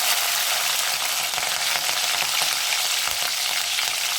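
Onions and green chillies frying in a pan for tomato curry give off a dense, unbroken hiss of sizzling oil, steady and fairly loud throughout, with faint stirring underneath.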